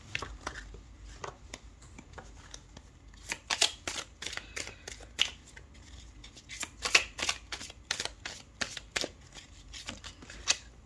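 Tarot cards are shuffled close by in quick, crisp riffles and slaps that come in uneven bursts over a quiet room.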